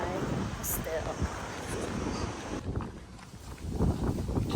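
Steady wind noise buffets the microphone while walking outdoors in southern Spain, a dense continuous rush that stays loud throughout with brief rustles.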